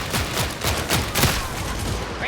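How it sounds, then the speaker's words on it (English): Pistol fire in Warhammer 40000 Darktide, with a steady run of sharp, close shots at a quick rhythm across a couple of seconds, set over a dense, busy game soundscape. "I'm shooting at a corpse. This pistol's alright."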